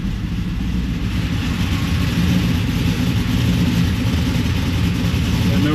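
A WS6 Trans Am's engine runs steadily as it is shifted into reverse, a loud, low rumble that holds constant without any clear revving.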